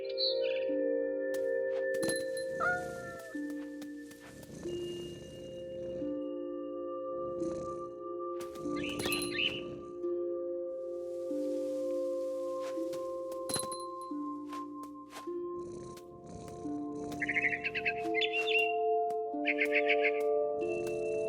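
Bird chirps from the video game What Remains of Edith Finch come in short, bright bursts scattered over a steady bed of in-game music and ambience, with a few clinking tones between them.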